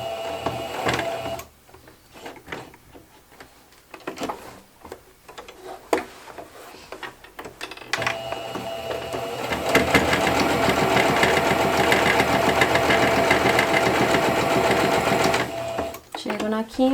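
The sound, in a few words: sewing machine stitching with 3.5 stitch length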